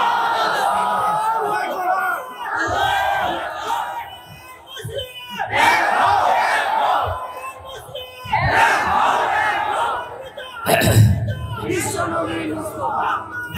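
Large crowd at a Bangla Islamic religious gathering roaring a takbir chant in unison, loud and close, in several surging waves of shouting with brief dips between them.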